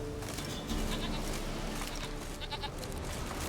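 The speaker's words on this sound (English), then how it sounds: "Here, goat." A goat bleats in The Witcher 3: Wild Hunt, giving a few wavering, nasal cries over a dense, steady background of ambient game noise, with no talk.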